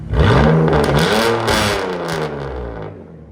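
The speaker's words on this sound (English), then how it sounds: "Wow. That sucker's loud. 119 out of a BMW." A 2002 BMW Z3 with a 3.0L inline-six and true dual straight pipes revs up hard once, very loud and close, then the raspy exhaust note settles and fades back toward idle.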